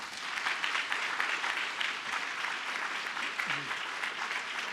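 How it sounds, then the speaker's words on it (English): Listeners at a talk about a contemporary art and design museum wing give a sustained round of applause, an even wash of many hands clapping at a fairly low, steady level throughout. "one more round of applause for Tom Phifer"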